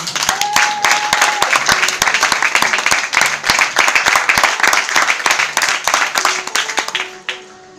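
A church congregation claps and applauds together in acclaim, loud and sustained with a fast, uneven rhythm that fades at the end, while an organ or keyboard plays softly underneath.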